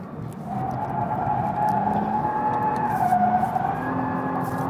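A 2.5-ton Bentley skids through a corner, its tyres squealing in a long sustained whine over the steady roar of the engine, with no talk.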